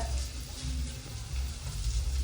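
Onions sautéing in a pan for a home-cooked family meal give a steady, soft sizzle and low frying hiss, with no talk over it.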